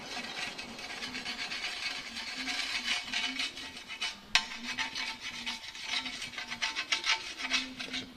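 Steady scrubbing and rubbing of degreaser over a greasy automotive part, a continuous close rasping scour with a brief sharp knock midway and no talking.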